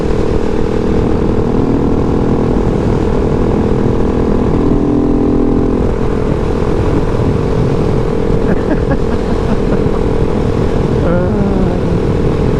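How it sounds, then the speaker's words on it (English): A 2019 KTM 690 SMCR supermoto ridden at speed, its single-cylinder engine droning loud and steady under heavy wind rush, with a few brief shifts in pitch toward the end. "You are a phenomenal motorcycle."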